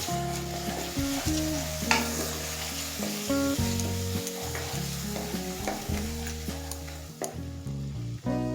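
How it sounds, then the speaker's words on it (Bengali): Chilli powder, roasted cumin and ground coriander stir and fry together in a pan for dhaba-style chicken bharta, a soft scraping sizzle running throughout beneath prominent background music. "এবার গ্যাসের ফ্লেম অন করে সব মশলা একসাথে মিশিয়ে নেব।"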